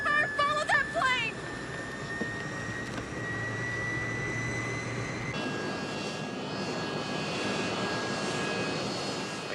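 An airplane engine drones steadily in flight during a movie scene, a sustained hum with a whining tone that shifts partway through. Brief voices are heard at the start.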